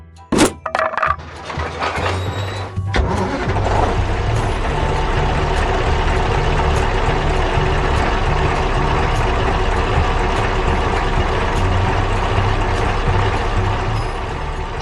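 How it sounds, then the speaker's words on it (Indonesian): Truck in a 3D construction animation speeding up after a sharp crack at the start, settling into a loud, steady engine roar. "Truknya mulai melaju kencang."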